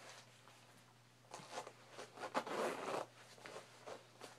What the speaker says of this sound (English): Actually, I'm gonna zip this up. That's the thing about leather jackets.